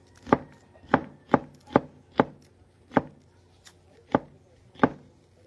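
A sharp knife chops onion for Filipino pork dinakdakan, about nine crisp, evenly spaced blade strikes on a board, close and clear, with a little faint background talk.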